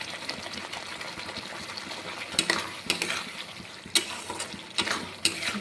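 Fish curry masala with tomato and chopped onion being fried in a pan: a continuous close sizzle broken by several sharp scraping knocks of a spatula stirring against the pan in an irregular rhythm, with no talking.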